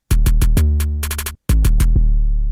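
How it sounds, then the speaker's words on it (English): An 808 bass layered with a bounce snare, soloed as two layers in a beat: quick punchy hits over a long sustained low boom, a brief gap, then more rapid snappy hits riding a fresh bass tone. "you can kind of hear how the 808 and the bounce snare are playing off of each other"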